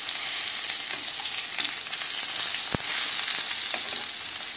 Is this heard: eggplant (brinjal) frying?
yes